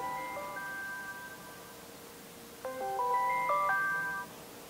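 A phone ringtone plays a bright electronic melody of clear, steady notes, pausing briefly before repeating louder and close by, with no talking.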